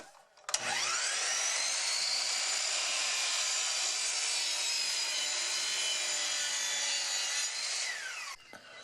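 A hand saw cuts steadily through wood to trim tenon shoulders on a drawer front, one continuous rasping stroke sequence lasting several seconds, close and loud, then stopping abruptly.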